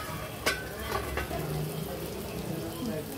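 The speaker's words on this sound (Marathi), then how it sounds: "शिजते ती छान आता तेलात" Stuffed eggplants frying in oil, giving a steady close sizzle and crackle throughout with a few brief stirring clinks, a faint voice in the background.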